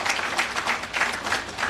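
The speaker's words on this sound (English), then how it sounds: "Can we give Mike another big round of applause?" A crowd at a ribbon-cutting grand re-opening of Elizabeth Station applauds steadily, a brief round of clapping heard from a modest distance.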